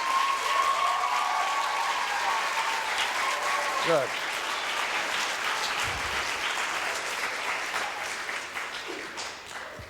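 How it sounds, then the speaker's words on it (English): An audience applauds for the teachers at a school event, with steady, dense clapping from a crowd that holds throughout, briefly under a few spoken words. "So how about a nice round of applause for the teachers?"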